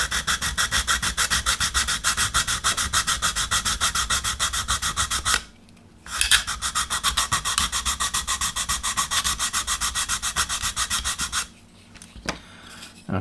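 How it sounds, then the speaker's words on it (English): Fast rhythmic back-and-forth scratching of 100 grit sandpaper on a plastic model part for a 22-inch Space 1999 Eagle 1 build, close and steady, with two brief pauses between long runs of strokes. "taking 100 grit, we can take this down really quickly"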